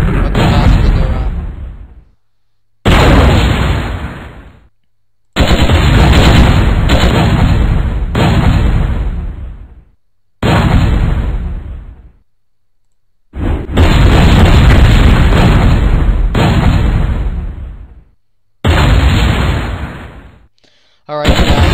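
A flamethrower in the mech game Mechquest fires in repeated loud, roaring bursts, each lasting a second or two and cutting off abruptly, with short silent gaps between.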